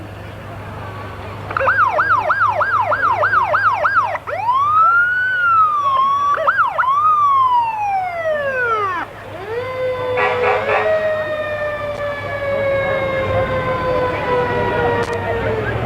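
Brushton Volunteer Fire Department fire truck in a parade sounds its siren nearby, first a rapid yelp, then long rising and falling wails, ending in a steady held horn-like tone over a low engine hum.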